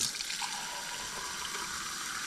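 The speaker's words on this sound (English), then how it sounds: "I'm actually going to be filling up a clear glass like this to take outside" Well water runs from a tap into a clear glass, a soft continuous splashing flow that stays even and fairly quiet, with no speech.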